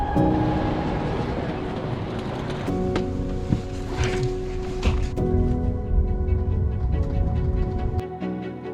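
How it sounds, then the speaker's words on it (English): Steady loud rumble and rattle inside a moving train in Italy bound for Lake Como, with humming tones and occasional clanks, continuous for several seconds. "And then we caught another train to Lake Como."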